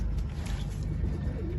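Pigeons coo softly at a steady, moderate distance, and the low murmuring calls run on under a faint background hiss.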